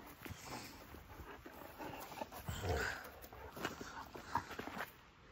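Dogs playing together outdoors, with soft whimpers, scuffling and light paw steps running continuously at moderate level, a few sharper yelps standing out.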